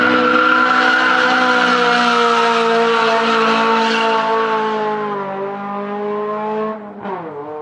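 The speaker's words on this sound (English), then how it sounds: "I actually shot some video of him drifting at Mabara" A turbocharged car drifting at Mabara, its engine holding a loud, steady high-revving note over squealing tires, then easing off and dipping sharply near the end before recovering.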